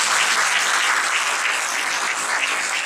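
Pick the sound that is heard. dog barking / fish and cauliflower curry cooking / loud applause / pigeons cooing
loud applause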